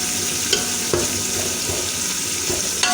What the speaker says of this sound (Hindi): टमाटर को अगर घी में फ्राई कर लेना